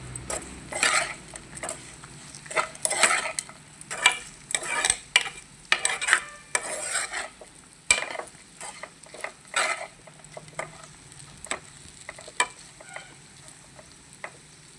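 Okra fry with turmeric and chili is stirred in a pan, with a soft frying sizzle under repeated scraping and clattering strokes of a spoon against metal, some close and loud, others lighter, and no talking.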